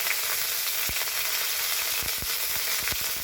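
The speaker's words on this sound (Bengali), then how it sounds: "আদা বাটা দিলাম তেলের উপর," Ginger paste fries in hot oil for a Bengali shukto, giving a close, continuous sizzle and hiss. A few sharp knocks of a spoon against the pan cut through, and no one speaks.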